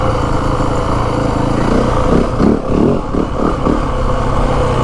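A 2025 Yamaha WR 450F dirt bike engine runs close by at low RPM, its deep, throbbing exhaust rising in a few quick blips of throttle in the middle, then settling back to a steady rumble.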